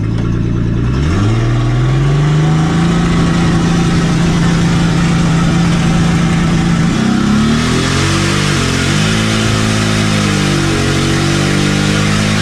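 Drag racing cars on a drag strip, loud and close, with engines roaring up through rising revs, holding a high sustained pitch, then shifting into rough, wavering revving near the end.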